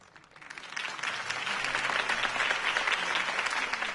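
Applause from a large crowd in a Batman video game swells in and holds steady, many hands clapping together at a moderate distance.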